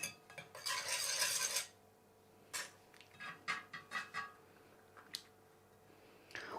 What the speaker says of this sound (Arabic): نقلب بقى الصوص مع الكريمه